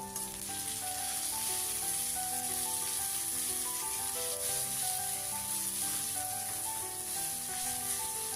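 Chopped green chilli and ginger-garlic paste fry in hot oil, giving a continuous soft crackling sizzle that holds steady and close throughout, with faint background music and no talking.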